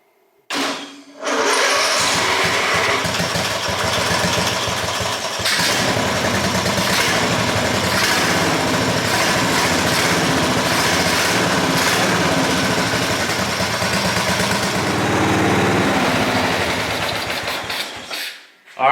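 Craftsman LT4000 riding mower with a Peerless 820 setup, cold-started on choke: a brief cranking burst, then the engine catches and runs loudly and steadily for about seventeen seconds before cutting off, with no talking.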